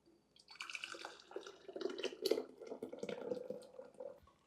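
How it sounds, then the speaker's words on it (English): Hot keto jalapeno jelly pours through a canning funnel into a jar, a soft, gurgling stream of thick liquid with small drips and splashes, close by and fairly quiet, with no talk. "So you just take this, be careful, it's hot, and you pour it in."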